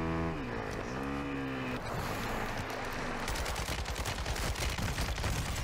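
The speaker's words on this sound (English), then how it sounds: "Those were some shots from him." Gunfire from a sub machine gun in the online shooter Warzone, with rapid bursts of shots in the second half over dense game audio and background sound effects.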